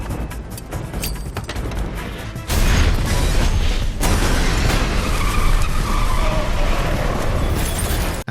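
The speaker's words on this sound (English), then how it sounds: "steal their neighbor's car and set out on a highway chase" A stolen car tears along during a movie highway chase, with screeching tire skids and dense engine and road roar that jump louder midway, along with crashing impacts, filling the scene without talking.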